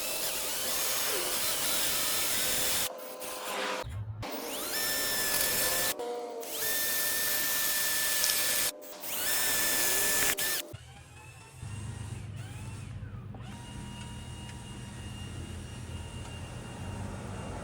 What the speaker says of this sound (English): I'm going to use this drill bit that came with the bracket to pre-drill the holes in the post